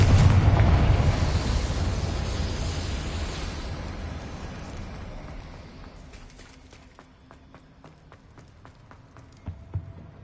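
A Confringo spell explosion in Hogwarts Legacy on PS5, a loud rumbling blast that fades out slowly, followed by scattered clattering steps and small knocks as the noise settles.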